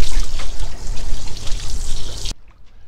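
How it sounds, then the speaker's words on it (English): Fresh water from a hose-down pump pours and splashes steadily over the deck of a Leopard 45 catamaran at sea, loud and close, cutting off abruptly near the end. "We've got fresh water hose down pumps, which works like a charm."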